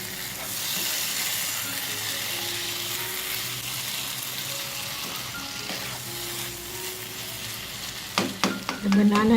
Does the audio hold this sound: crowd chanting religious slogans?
no